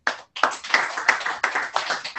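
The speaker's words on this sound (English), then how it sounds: "let's give them a round of applause" A small group at a team meeting claps briskly and continuously, the irregular hand claps close and fairly loud, with no talking over them.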